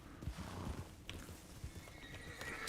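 Horses in the Red Dead Redemption 2 video game make quiet clip-clopping hoofbeats, and a short whinny rises partway through. No voices are heard.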